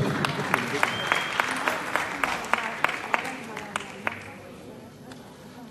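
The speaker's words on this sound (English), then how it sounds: "this is an applause for our judges" The audience at a beauty pageant, the Miss Eco International 2018 Top 10 announcement, applauds the judges with a steady patter of clapping and a few sharper claps. It fades toward the end while an amplified voice carries on underneath.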